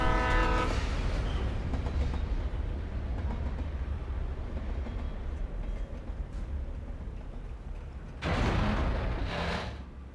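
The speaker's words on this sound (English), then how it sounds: "Oh, there's a train." A train in the video game Alan Wake rumbles steadily past with a low, continuous roar and rattling, a horn sounding at the start and a louder surge near the end.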